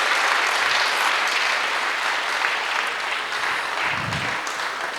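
A class audience in Ladgao bursts into sustained clapping, a dense and even applause that carries on steadily without letting up.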